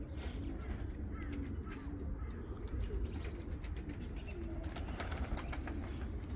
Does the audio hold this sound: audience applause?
no